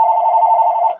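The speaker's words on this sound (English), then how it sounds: "I have two phone rings." A telephone rings once, a steady electronic tone holding for about a second before cutting off, loud and close with no voices.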